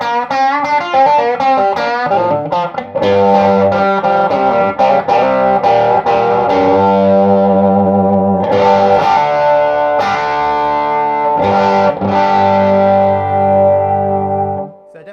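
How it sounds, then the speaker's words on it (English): Electric guitar through a Todd Sharp JOAT 20 amplifier with the gain turned up, giving a crunchy, overdriven tone; loud, sustained chords and single notes ring out alone for about fifteen seconds, then fade at the end. "if you kind of want to go more into the lead territory or the sort of crunchy territory, you have the attitude turned further up"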